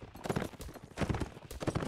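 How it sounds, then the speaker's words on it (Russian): Horse hooves clopping in a video game, a quick rhythmic trot heard up close at low volume for a couple of seconds. "Но он на коне сейчас идет."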